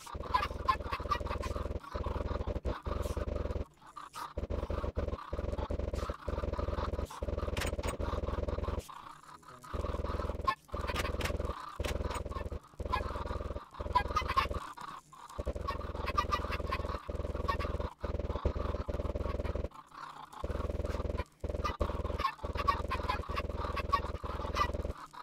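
Chickens crowd a house in Minecraft, their synthetic clucks and squawks repeating densely in a fast, choppy stream with brief gaps, loud and without talk.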